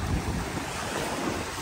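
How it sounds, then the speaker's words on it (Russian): Waves from the Aegean Sea break and wash onto a beach under a gathering storm cloud, a steady close roar of surf mixed with wind noise and no voices. "Прямо волны идут."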